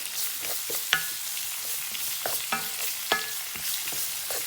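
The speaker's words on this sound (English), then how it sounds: "So you add your onions, your flour. You're going to mix that around until the onions get, nice and soft a little bit." Onions and flour sizzle in a pot while a spoon stirs them, with steady frying crackle broken by several sharp scrapes and clinks of the utensil against the pot, close and fairly loud, no voices.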